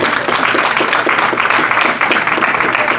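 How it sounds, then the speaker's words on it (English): Audience at a relationship panel and conference clapping in sustained, dense applause, loud and continuous throughout with no break. "let's give our couples another warm round of applause"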